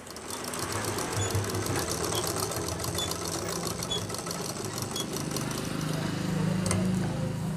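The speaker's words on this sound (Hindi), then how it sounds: "बस मशीन को लगातार चलाते रहना है और उसको ऊपर नीचे करते रहना है जिससे आपकी सिलाई आगे पीछे जाएगी" A sewing machine runs continuously while darning, stitching back and forth with a steady, close whirring hum and a fast mechanical rattle that holds even from start to finish.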